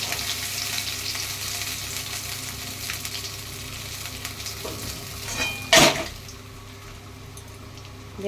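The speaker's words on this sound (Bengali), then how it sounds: "আবার মাছ দিচ্ছি, এইভাবে আমি সব মাছগুলো ভেজে দিচ্ছি।" Khoira fish frying in oil, a dense close sizzle that stays steady, then a sharp louder burst as another piece drops in, after which the frying settles to a quieter bubbling.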